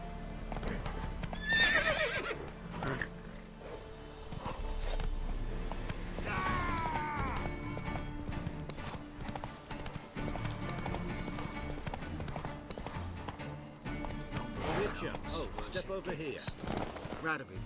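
Geralt's horse Roach gallops in The Witcher 3, hoofbeats thudding steadily beneath a loud game soundtrack, with a whinny near the start and a shouted call to the horse, then talk between characters.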